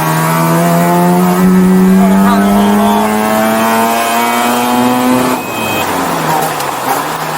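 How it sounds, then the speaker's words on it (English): A Mazda RX-7 rotary engine drones steadily at high revs with a buzzing, raspy tone that rises in pitch, then drops as the driver shifts through a very short gearbox, with a sharp pop. "that incredible sound of the rotary engine, it's just beautiful"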